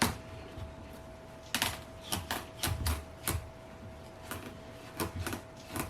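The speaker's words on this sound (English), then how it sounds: "I'm just moving my knife in a up and down motion to make it easier to cut." A knife saws lengthwise through a hard butternut squash in short, sharp up-and-down strokes, several distinct cuts close by against a quiet background.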